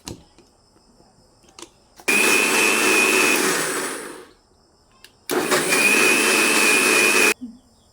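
An electric blender whirs through raw mango sherbet in two loud, steady bursts of about two seconds each, separated by a short quiet pause.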